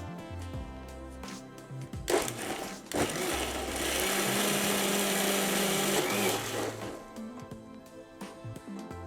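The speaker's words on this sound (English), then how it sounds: "This is the time we can put the gravy in a blender for blending." Kitchen blender pureeing malai kofta gravy: after brief clatter, the motor whirs loudly for a few seconds in a steady churning roar, then winds down amid light handling noises.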